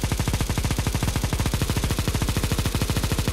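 A Negev machine gun in the game CS:GO fires a long, steady, rapid burst of evenly spaced shots, loud and close, with no talking.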